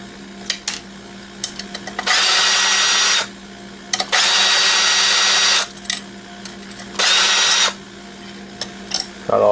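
A power drill pulls screws out of an old aluminum alarm system enclosure, three sustained whirring bursts of a few seconds each, separated by light clicks and handling noises, close and loud.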